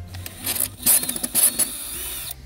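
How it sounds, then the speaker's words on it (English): Screws come out of a Jeep Wrangler JKU taillight with short, close whirring bursts from a small power driver, mixed with faint clicks and handling noises. "Okay, I'm going to take these 2 screws out now."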